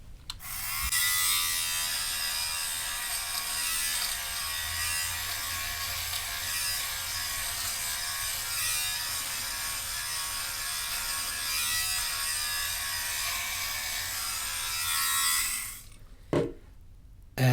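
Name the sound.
electric sweater shaver motor and blades removing pills from knit fabric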